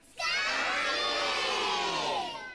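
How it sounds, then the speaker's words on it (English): A crowd of children in a theatre audience at a Sooty show shouts the name Scampy together in one loud, sustained unison yell that begins abruptly and fades slightly at the end. "I want you all to shout for Scampy."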